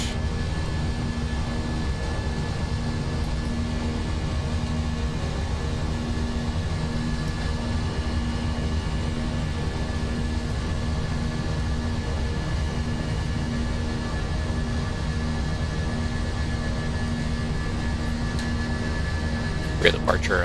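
Airbus A320 engines at climb thrust in a flight simulator, a steady broadband roar with low droning tones holding evenly throughout, loud and constant with no break.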